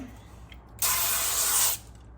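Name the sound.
spray bottle spraying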